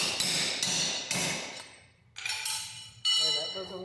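Metal hammer blows striking a stuck fastener to break its head off, several sharp ringing hits spaced about half a second apart, then a pause and two more clanging strikes close up.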